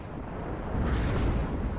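A high-explosive artillery shell fires in the WARNO war game, a single deep, rumbling boom that swells and lingers briefly.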